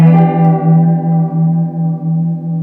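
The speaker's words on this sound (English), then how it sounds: "designed to sound like one of those Leslie speakers that would literally spin" An electric guitar chord rings out through a swirling rotary-speaker effect emulating a spinning Leslie speaker, its volume pulsing in a steady wobble as the note slowly decays.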